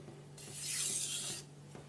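A knife blade rasps across a sharpening stone in a couple of single passes, a steady hissing scrape swelling for about a second then fading, close and moderately loud over a faint background hum.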